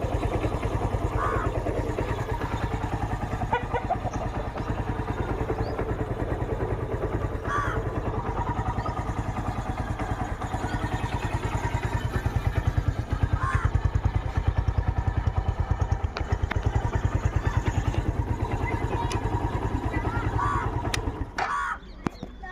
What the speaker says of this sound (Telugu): అంతా ఇంజన్ సౌండ్ మొత్తం అనేసి విన్నారు కదా